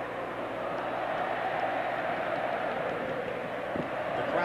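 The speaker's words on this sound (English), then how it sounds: "The crowd starts to sing." Large stadium crowd at a 1995 Copa America football match between Uruguay and Brazil, a steady distant roar of massed voices and singing that fills the ground without letup.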